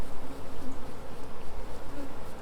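Steady, close buzzing of honey bees during a cutout from a second-story building, droning continuously with a pulsing rise and fall, no voices.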